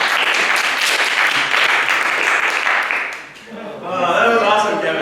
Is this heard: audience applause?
yes